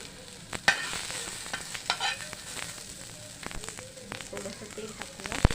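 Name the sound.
onion and coconut roasting in a pan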